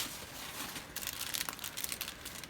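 Packaging of diamond painting kits being unwrapped up close, quiet plastic crinkling and tearing in a short busy burst, with no talk.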